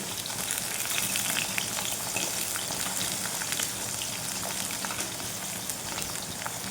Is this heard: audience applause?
no